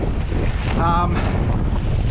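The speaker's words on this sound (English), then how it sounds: "Nice breeze out here in the open." Wind buffets the microphone out in the open on a long lake embankment, a steady loud rushing roar with no talking.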